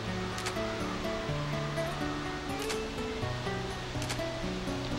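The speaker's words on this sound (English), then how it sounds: "Oh, waterfall." Waterfall in the video game Dark Cloud 2, a steady, dense rushing roar of falling water that fills the whole clip, with calm game music tones playing underneath.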